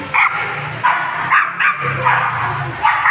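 Pet dogs bark repeatedly in quick, sharp yaps, fairly close and loud, with no talking over them.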